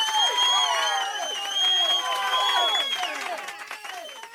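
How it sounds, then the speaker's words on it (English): Stock applause and cheering effect from the video game Corpse Party, a busy crowd clapping with whoops and shouts, steady and fairly loud throughout. "Thank you, stock applause sound effect"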